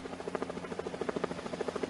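A helicopter flies over a narcotics police raid in Arsuz, Hatay, its rotor chopping in a fast, steady beating pulse, loud and continuous with no voices.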